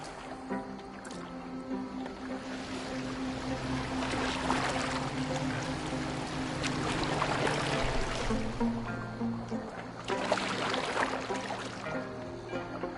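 Oars or a longship hull moving through water in Assassin's Creed Valhalla, with steady splashing and sloshing under a continuous low rumble of game ambience throughout.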